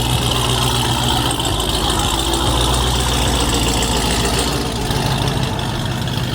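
Jeep Trackhawk with stock exhaust and mid muffler delete idling, a deep steady rumbling burble, close and constant, with no talking.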